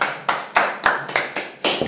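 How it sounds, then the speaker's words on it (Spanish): Studio applause for Francisco Urbano: about seven sharp, separate handclap bursts in a steady beat, close and fairly loud, each fading quickly before the next. "Aplausos para don Francisco Urbano."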